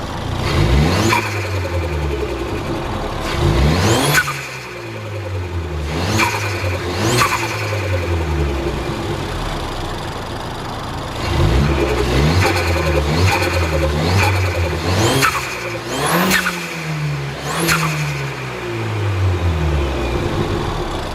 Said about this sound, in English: I'm also running a Turbo Smart dual port, which in my opinion is the best sounding.